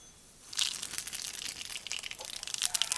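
Cumin seeds dropped into hot oil already holding mustard seeds crackle and spit in a dense, close sizzle that starts abruptly and keeps popping with sharp bright crackles throughout.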